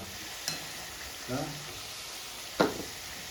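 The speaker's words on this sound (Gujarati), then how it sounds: "બટેકાની ચિપ્સ ફ્રાય થાય છે" Sliced potato chips fry in hot oil in a home kitchen, giving a steady soft sizzle broken by a few sharper crackles and splashes as the chips are stirred, fairly close and without speech.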